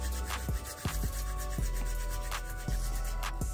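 Crochet faux locs hair rubbed together by hand, giving a close, steady scratchy rubbing with repeated soft strokes about every half second, heard alone without talk.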